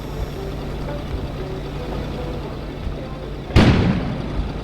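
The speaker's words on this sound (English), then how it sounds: "An explosion suddenly occurred outside." An outdoor explosion in the video game Kona: a single sudden, loud boom bursts out after a steady low ambient hum, then rumbles and fades slowly.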